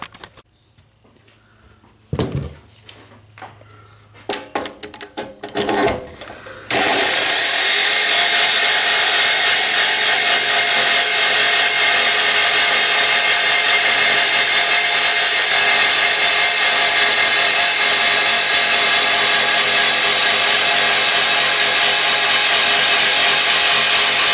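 A power tool saws through a rear bumper to cut openings for flush-mounted LED pods. A few faint knocks come first, then loud, continuous, steady cutting runs for the rest of the clip with no talk.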